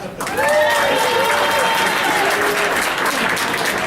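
Comedy club audience, asked about Buffalo Bills fans, breaks into loud, sustained applause with some cheering and voices calling out over it.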